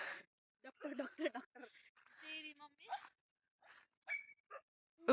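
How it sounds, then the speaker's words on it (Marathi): Several dogs gathered in a village farm area bark and whimper in short, scattered bursts, fairly faint and distant, with quiet voices mixed in. "किती कुत्रे गोळ्या झाले"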